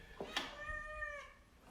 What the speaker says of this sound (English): Oh, and there's this cat.